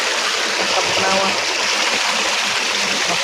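Cold stream water flows through a rural field, giving a steady, full rushing wash with splashing texture that stays constant and close throughout.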